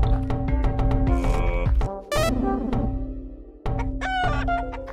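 A chicken in the video game Lisa The Painful gives loud, close clucking and crowing calls over steady game music.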